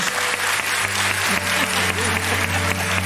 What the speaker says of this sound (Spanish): Toma y aplausos